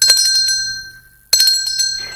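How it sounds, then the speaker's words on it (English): On a radio phone-in show, a bright bell rings out loud and close, fades, then rings again after a brief silence, with a faint rattle trailing the second strike. "So that bell was for you."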